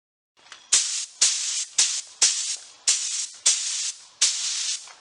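A spray gun lays a lacquer sealer coat on a wooden rocker in a rhythmic series of about eight close, loud hissing bursts, each cut off by a brief pause.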